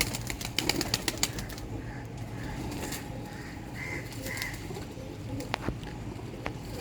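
Sialkoti pigeons coo softly in a busy loft while wings flap in sharp bursts, the flutters clustering early and again near the end against a steady background hum.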